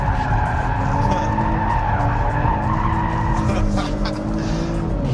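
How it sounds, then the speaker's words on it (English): A 2019 Kia Stinger sliding around a race track at about 130 km/h, its engine droning loudly and steadily while the tires squeal and skid throughout. "Nice cool slide at a cool 130 kilometres an hour."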